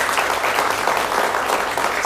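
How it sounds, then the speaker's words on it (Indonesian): A studio audience at a televised Indonesian political discussion gives steady, dense applause that fills the whole stretch at an even level. "tepuk tangannya boleh?"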